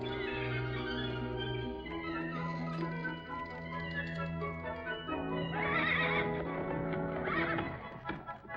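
A cartoon horse from 1939 neighs and whinnies over an orchestral score, with a brief clip-clop of hooves, a loud and close sound that rises to two bright whinnying bursts near the end.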